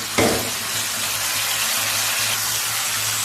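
Spicy potato and dal fritters being stir-fried in a pan, a continuous low sizzle with a sharp scrape at the start and soft stirring throughout, no talking.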